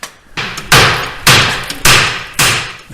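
A hammer striking front differential parts on a John Deere Gator during a repair, five loud, sharp metallic blows at an even pace, each ringing briefly before the next, close and alone.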